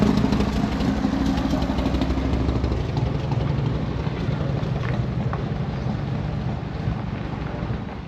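A Harley-Davidson Sportster fitted with a panhead top end, known as a Panster, idles with a steady low rumble, loud and close at an outdoor hoedown, with no talk over it.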